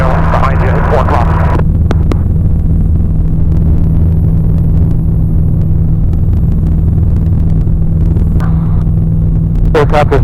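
A steady, loud engine drone from a Zodiac 601/650 light aircraft fills the cabin in the landing pattern, a constant low hum with radio chatter and talk over it.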